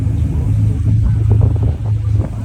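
An Audi A3 engine idles loud and close with a low, uneven throbbing rumble that points to a misfire, running continuously with a slight dip near the end.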